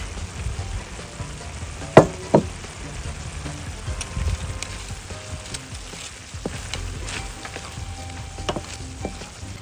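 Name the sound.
shrimp frying and being stirred in a paella pan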